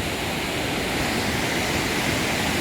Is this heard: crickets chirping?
no